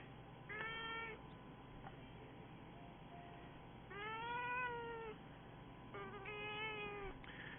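A sweet cat named Coda meows three times, spaced a few seconds apart, each a clear tonal cry of under a second, close but moderately quiet.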